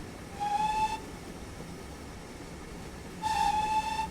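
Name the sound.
GWR 9400 Pannier Tank locomotive whistle in Train Simulator video game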